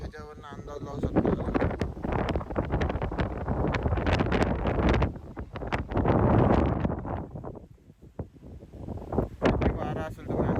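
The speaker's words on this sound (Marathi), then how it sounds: "यावेळेस तुम्ही वारं बघू शकता, खूप वारं आहे वरती" Strong gusty wind roars across the top of Shivneri fort, buffeting the microphone in loud rumbling waves that briefly ease before surging again.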